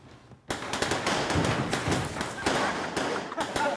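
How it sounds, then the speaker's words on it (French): Fireworks in a film burst and crackle in a dense, continuous volley after a quiet start, loud and close, with rapid pops and thuds layered over one another. "Alors, d'où ils viennent ces feux d'artifice?"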